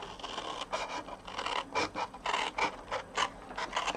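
Cardstock for a Stampin' Up butterfly tuxedo card is trimmed close by with a blade, a soft rhythmic scraping and rasping in quick repeated strokes, fairly quiet and without speech.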